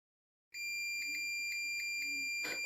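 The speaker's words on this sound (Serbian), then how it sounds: "Kako pipnete plus pol unimera, treba da čujete pištanje." Multimeter continuity beeper sounding while its probes test a Mercedes KE-Jetronic throttle position sensor: a steady, loud high-pitched tone starting after a brief silence and holding to the end, close and alone.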